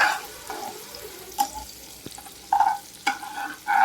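Onions go into frying rice and get stirred in a pan, with quiet sizzling broken by several louder bursts of spatula scraping and tossing, close by.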